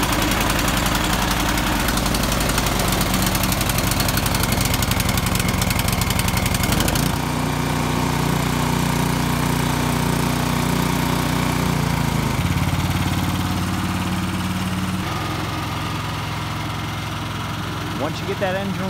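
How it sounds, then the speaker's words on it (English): A snow blower's small engine runs loud and close, a rough continuous rattle and drone that shifts pitch and settles a few times as the engine speed changes. "go ahead and start your engine"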